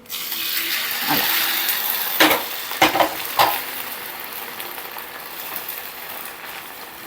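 Beaten egg for an omelette poured into hot oil in a pan, sizzling and frying steadily throughout, with a few sharp clatters and pops of utensil contact in the middle before the hiss settles back down.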